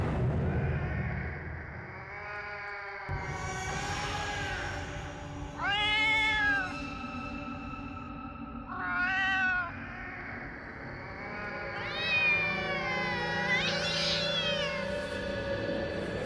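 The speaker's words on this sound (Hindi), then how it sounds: "ये तो वही बिल्ली की आवाज है" A cat meows repeatedly at night in a house, with several drawn-out, rising and falling calls spread across the stretch over a low steady background hum, no talking.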